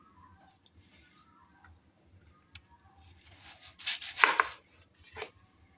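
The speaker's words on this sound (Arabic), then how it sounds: "غنبدا دابا بالبصله نقطعها" A knife chops an onion on a cutting board, starting with sparse soft taps and building into a quick, louder burst of cuts toward the end; close by, with no talking.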